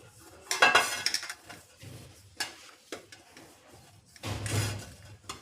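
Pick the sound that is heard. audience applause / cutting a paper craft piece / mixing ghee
mixing ghee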